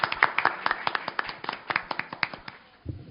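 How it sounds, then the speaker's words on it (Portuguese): Several people clap at a law and literature lecture in a close, sparse burst of individual claps that thins out and stops, followed by a low thump. "Então, eu peço uma salva de palmas para o Rogério."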